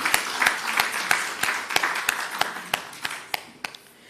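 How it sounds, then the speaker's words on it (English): An audience at a national health research conference applauds, loud individual claps landing in a slow, uneven rhythm over a softer wash of clapping that fades toward the end. "I invite us to give a round of applause for what has transpired over the 3 days of the conference"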